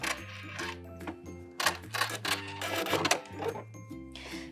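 Sewing machine back stitching elastic onto a bralette, a run of quick rhythmic needle bursts with short pauses between, close and clear with no talking.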